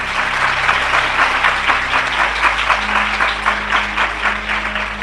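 Applause from a Christian religious gathering in India, a sustained, dense crowd clapping that stays loud and even throughout, with no voices over it.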